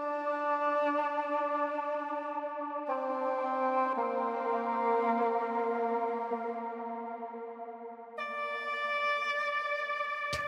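A heavily processed, pitched-down noise loop from the Cashmere sample pack, chopped and rearranged, giving a sustained, breathy, saxophone-like tone that holds long notes and shifts pitch a few times, alone and moderately soft.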